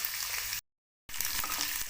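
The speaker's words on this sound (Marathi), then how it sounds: "हा लसूण क्रश करून घेतला आहे तो टाकून घेऊया." Crushed garlic sizzles in hot oil with cumin and mustard seeds, a dense steady hiss that cuts out briefly for a moment before resuming.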